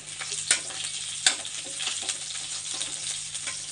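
Garlic sizzles in hot oil for a kadhi tempering, a steady close frying hiss with a couple of sharp utensil knocks and light stirring scrapes.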